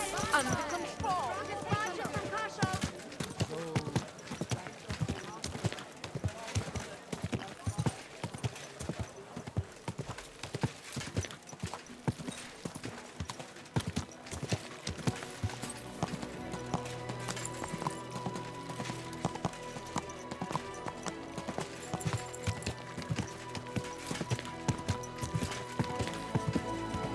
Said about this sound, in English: Get that horse under control.